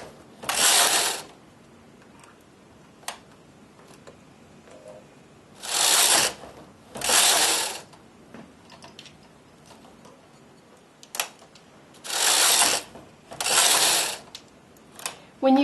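A knitting machine carriage pushed across the needle bed to knit rows, heard as separate loud whooshing, clattering sweeps in pairs, each about a second long, with quiet gaps and faint clicks between passes.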